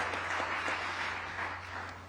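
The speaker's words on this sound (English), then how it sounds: "a loud round of applause for yourselves for taking the time out and participating in our first ever conclave" An investors' conclave audience breaks into a round of applause, a steady, fairly distant wash of clapping that fades slightly toward the end, over a low hum.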